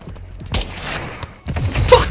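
An RPG rocket strikes the player in Call of Duty Modern Warfare 2, giving two loud, harsh bursts of explosive noise half a second and a second apart, each trailing into rumbling debris.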